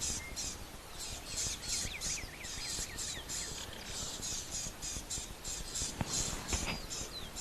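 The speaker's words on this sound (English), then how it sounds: "You can hear them chirping away, alarming." Small birds give alarm calls in quick, repeated bursts, sharp and insistent, layered over steady outdoor background noise during a sunrise safari.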